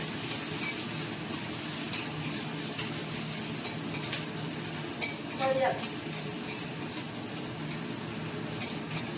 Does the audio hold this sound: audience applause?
no